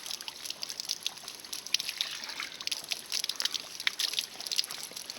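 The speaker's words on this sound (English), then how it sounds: "a local stream where people have attached their simple PVC pipe so that they can easily get drinkable water" Clear drinking water trickles and splashes steadily from a simple PVC pipe fitted into a forest stream, a faint continuous patter with no voices.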